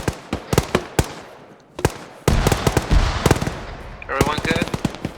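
Gunfire in the military shooter ArmA 3 comes in sharp, irregular bursts and single cracks, some near and loud, others further off, with brief rapid volleys and voices partly under the shooting.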